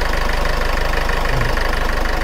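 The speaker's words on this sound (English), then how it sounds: "the engine is also running much smoother than before" Ford Fiesta Classic engine idling after an oil change with 100% synthetic oil, a close, loud, steady rhythmic putter that runs smooth and even throughout.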